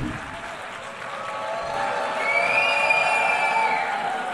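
Sustained applause from a crowd in a parliamentary hall, a dense clapping wash that swells slightly midway with faint voices mixed in.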